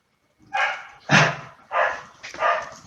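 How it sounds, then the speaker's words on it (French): A dog barks four times at an even, slow pace. Each bark is loud and fairly close, separated by short silences, and no one talks. "Tu vois, Sam, il y a un chien qui aboie à cause de toi."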